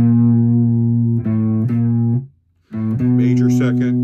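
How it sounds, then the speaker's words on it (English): An electric guitar played through a distortion effect sustains gritty, harmonically rich notes, with a brief gap before another distorted chord rings out with buzzy overtones. "if I do a little distortion here"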